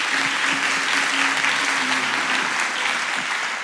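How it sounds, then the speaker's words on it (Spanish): Steady applause from a live comedy-show audience cheering a contest participant, dense and continuous clapping throughout with a faint voice underneath. "Aplauso."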